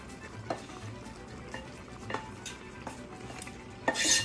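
Sautéed mussels with their juices, oil, garlic and crushed red pepper are stirred into a thickening, simmering bean broth, giving soft scraping and occasional clinks of utensil against the pot amid quiet bubbling, with a brighter clatter near the end.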